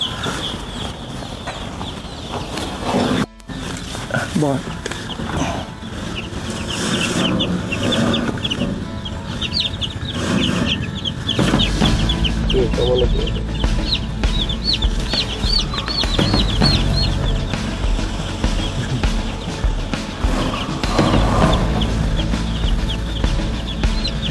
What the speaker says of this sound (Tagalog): tignan natin itong mga sisiw natin na napisa at bagong marking at bago ring bakuna